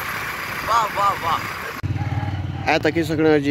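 Motorcycle engine running while riding along a newly built road near Dadyal, a steady low drone beneath someone talking close to the microphone.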